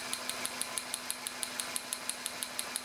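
A car engine idles during a compression test, a low steady hum with a fast, even ticking pulse repeating about six times a second, fairly quiet and with no talk.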